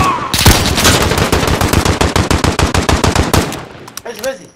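Rapid automatic gunfire from the Call of Duty: Modern Warfare video game, a loud sustained burst of evenly spaced shots lasting about four seconds before stopping, with faint voices after.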